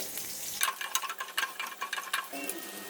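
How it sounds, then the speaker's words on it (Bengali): Mung dal being dry-roasted and stirred on a dry tawa, giving a steady light rustling scrape with uneven rattling bursts from the lentils across the pan, fairly close and with no talking. "শুকনো তাওয়ায় মুগ ডালটা হালকা করে ভেজে নিচ্ছি"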